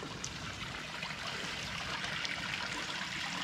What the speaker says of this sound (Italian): Ah, qua c'è una bella fonte.